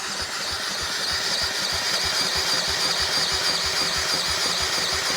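A super rare three-wheeler, unstarted for 15 years, cranks over with a steady, rapid mechanical chugging that stays loud and close throughout, with no words spoken.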